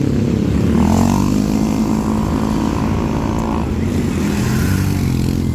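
A motorcycle engine runs steadily at night on a bypass road in Lucban, Quezon, a loud continuous drone with a low rumble and a faint rising whine partway through, no talk over it.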